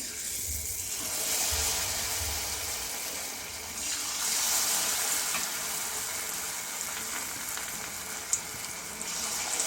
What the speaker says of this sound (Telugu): ఆయిల్ హీట్ ఎక్కింది. మష్రూమ్స్ వేస్తున్నాను.